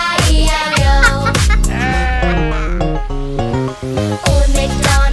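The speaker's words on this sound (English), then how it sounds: "And on his farm he had a sheep" A cartoon sheep bleats repeatedly, loud and close, over a bright, bouncy Old MacDonald nursery-song backing track.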